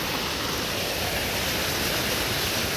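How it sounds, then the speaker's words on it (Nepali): Water rushes steadily beside a collapsed bridge along a sandy riverbed, a loud, close, continuous roaring wash with no voices. "यहाँ पानी छ फेरि"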